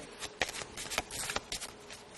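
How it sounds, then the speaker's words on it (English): A deck of playing cards is shuffled by hand during a card trick, a fast riffle of flicking snaps and sharp slaps close to the microphone. "So shuffle the card."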